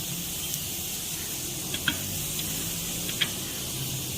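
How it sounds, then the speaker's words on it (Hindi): Garlic frying in hot oil in a home kitchen for a chicken Manchurian recipe, a faint steady sizzle with a few soft clicks of stirring. "अब इसी में लहसुन को डाल देना है। जैसे ही लहसुन थोड़ा लाइट ब्राउन होता है,"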